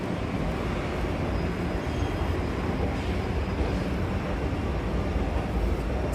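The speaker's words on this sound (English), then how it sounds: "They're testing Mark 5 trains." A Mark 5 SkyTrain in Surrey, British Columbia, runs past with a steady, loud broadband rumble and rushing roar that stays level throughout with no voices.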